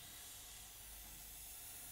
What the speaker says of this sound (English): So just spraying in those areas that I want to go a bit darker